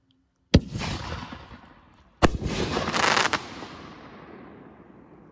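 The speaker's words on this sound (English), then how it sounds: "Our next Inferno shell is going to be the silver brocade to red with green strobes and a silver chrysanthemum" Two sharp reports from a Big Bang Inferno firework shell breaking into silver brocade to red with green strobes and a silver chrysanthemum, each followed by a long crackling, sizzling tail that fades away outdoors.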